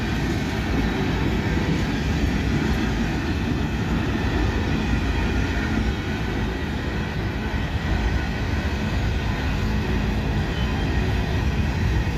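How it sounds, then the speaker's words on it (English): A heavy freight train climbing a hill rumbles steadily with a deep, constant roar and a faint high whine above it, sustained and unchanging, with no voices. "One end's a big heavy train. He's going up a hill"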